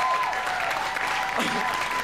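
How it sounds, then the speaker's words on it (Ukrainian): Studio audience at a comedy club show breaks into loud, sustained applause, dense clapping filling the whole stretch with a brief cheer or voice rising near the end. "Маша і Прасініна, ваші оплески."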